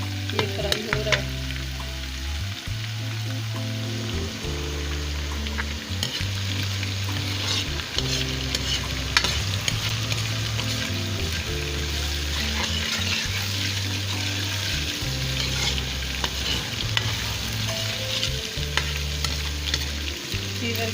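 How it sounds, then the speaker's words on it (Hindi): Garlic ginger paste frying in a pan for a cauliflower and potato sabzi, a steady close sizzle with stirring scrapes, and a low repeating musical background underneath. "ये मैंने आग में लहसुन अदरक पेस्ट शामिल कर दिया। ये फ्राई हो रहा है।"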